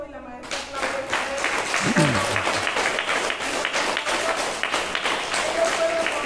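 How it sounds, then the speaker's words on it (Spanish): Audience at a primary school closing ceremony applauds loudly and steadily, dense clapping filling the room for several seconds with a voice briefly rising underneath. "denle un fuerte aplauso"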